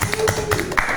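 Brief scattered hand claps from a small group, a few quick taps in a loose rhythm over about a second, close and moderately loud with no talking.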